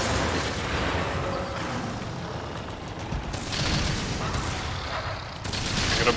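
Explosions in Monster Hunter Rise during a multiplayer hunt against the monster Magnamalo, a dense roaring rumble with bursts that swell and cut off abruptly, loud and close, with faint voices now and then.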